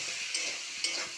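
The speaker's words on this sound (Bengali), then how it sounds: "এইভাবে মশলা দিয়ে কষিয়ে নিচ্ছি ভালো করে" Ground spice paste and ginger paste fry in a pan while being stirred, a steady sizzle broken by two sharper scraping strokes, close and continuous with no voices.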